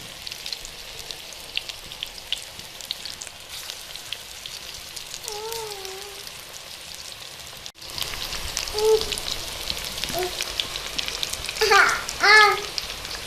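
Cauliflower pakoras frying in hot oil make a steady, rain-like sizzle and crackle that grows louder in the second half, with a few faint chirping tones in the background.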